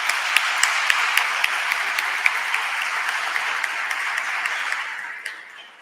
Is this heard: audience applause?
yes